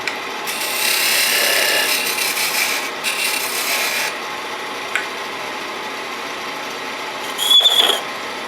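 Wooden box piece spinning on a lathe as a tool cuts it back to straight and then into a taper, heard as raspy scraping bursts near and loud, separated by brief pauses and a sharp whine near the end.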